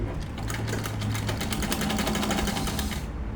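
A sewing machine runs steadily throughout, a continuous rapid stitching chatter with a low motor hum underneath, close and fairly loud, stopping right at the end.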